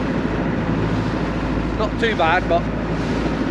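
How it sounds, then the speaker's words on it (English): Steady wind rushes across the microphone outdoors on a boat before a dive, with a person speaking briefly over the constant blustery noise. "It's pretty windy."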